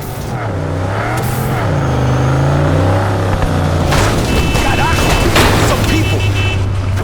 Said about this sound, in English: if I smash into this guy's car